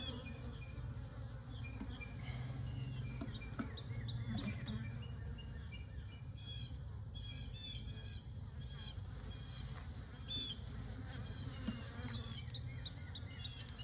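Honey bees in an opened hive during swarm prevention make a dense, continuous buzz close by, with individual bees droning past over the steady hum.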